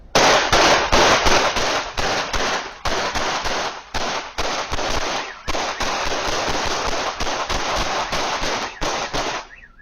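Rapid bursts of gunfire from a shooting recorded by a security camera, loud sharp cracks in quick irregular volleys filling nearly ten seconds with brief gaps, no voices.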